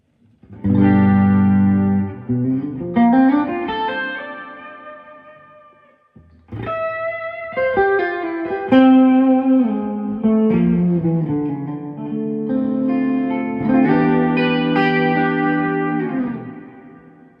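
An electric guitar plays slow sustained chords and melodic lines through a Carl Martin Headroom Mini reverb pedal, with each phrase ringing out in a long, lush tail. There are short gaps between the phrases.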